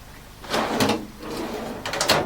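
Large kitchen drawers in a 2014 Track Trailer Topaz caravan slide open and shut in two close, brisk rolling sweeps, each ending in a soft thud, with no voices.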